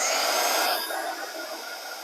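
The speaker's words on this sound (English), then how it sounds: "now I can bring the heat tool in, and it starts to go immediately" Embossing heat gun blowing hot air onto die-cut craft paper, a close, steady airy whoosh that drops slightly in level partway through and continues evenly, with no talk.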